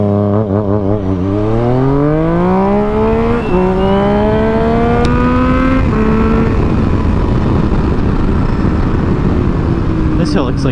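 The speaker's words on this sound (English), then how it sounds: "Thought my noisy ass exhaust echoing off the canyon." Yamaha FZ-09 motorcycle riding through a canyon, its loud exhaust note climbing through the gears in a steady rising drone, close and constant for the whole stretch.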